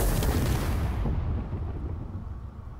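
A weapon fires at armor panels in the game Space Engineers, a single loud, heavy blast that rolls out and slowly fades over a few seconds.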